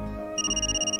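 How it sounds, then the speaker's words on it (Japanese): A mobile phone ringtone in the otome smartphone game Stand My Heroes chimes in a quick repeating electronic pattern, clear and close over a soft musical background. "鳴り出した携帯の着信音に携帯をポケットから取り出す。"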